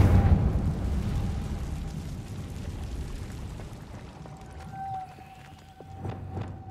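A Confringo fire spell explodes in Hogwarts Legacy: a loud burst with a rumbling roar that decays over several seconds, followed by a smaller crackling flare near the end.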